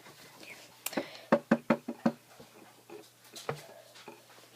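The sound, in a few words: knocking on a window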